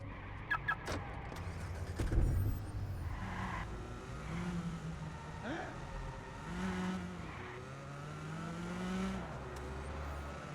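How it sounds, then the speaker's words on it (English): A car in the Watch Dogs video game drives with a steady, low engine drone and occasional tire squeals, sounding flat and synthetic throughout, with a few sharp clicks near the start. "They didn't do the best job with the sounds of the vehicles."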